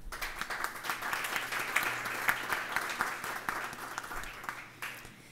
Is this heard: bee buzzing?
no